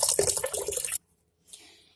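Water pours into the tub of a Godrej semi-automatic washing machine with a steady hiss and splash that cuts off abruptly, followed by a brief faint trickle or drip.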